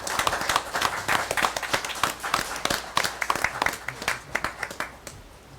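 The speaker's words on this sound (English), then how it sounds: "I'd like to give you applause" Applause at a city council meeting, a small room of people clapping in a fairly sparse, uneven patter that fades out over several seconds.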